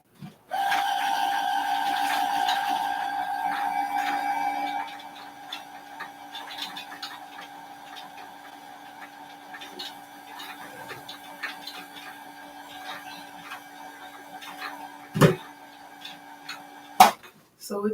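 A sewing machine winds a bobbin with a loud, steady whirring hum for about four seconds, then quieter mechanical ticking and rattling follow, ending with a couple of sharp clacks.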